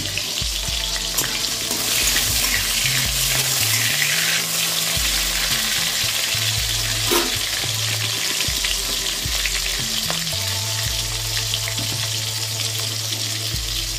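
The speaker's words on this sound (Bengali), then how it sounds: "তেলে জিরে লঙ্কা, জিরে আর শুকনো লঙ্কা, তেজপাতা ফোড়ন দিয়ে দিলাম।" Cumin, dried chilies and bay leaf spit and sizzle in hot oil for a dal tempering, a loud continuous crackling fry with stirring scrapes and some watery splashes, no talking.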